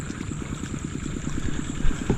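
A farm engine left running at night, a steady mid-low rhythmic throb like an idling motor, continuous and moderately loud with no talk.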